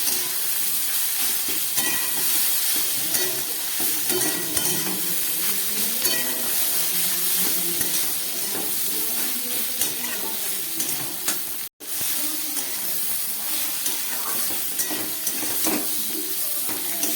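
Soybean chunks and potato fry with chillies and Kashmiri chilli powder, sizzling loudly and steadily while being stirred through the whole stretch, with a brief drop near the end.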